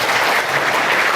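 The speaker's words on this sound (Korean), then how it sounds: "박수 한번 쳐주시죠." Parents and children in a lecture audience at a youth gaming camp clap together, a brief, dense and steady burst of crowd applause.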